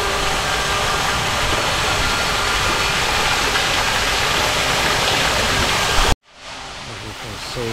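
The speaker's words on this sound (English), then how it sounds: "what's beautiful is you have like a natural waterfall feature over here" Water from a natural waterfall feature beside a hotel swimming pool in Sanur, Bali, pours loudly as a steady broadband rush. The sound cuts off abruptly near the end, followed by quieter ambience.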